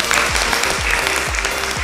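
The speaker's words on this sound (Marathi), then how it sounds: "सर्वांसाठी जोरदार टाळ्या होऊ दे." An audience of homemakers at a televised Marathi contest show claps continuously, a brisk, dense patter of hands, with rhythmic low thumps of music beating underneath.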